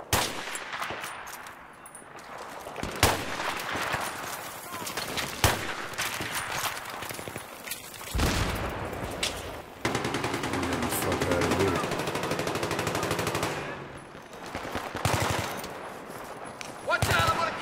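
Heavy machine gun fire in Battlefield 3 on the Azadi Palace map during team deathmatch, long rapid bursts of loud automatic shots with short gaps between, mixed with other gunfire and occasional voices.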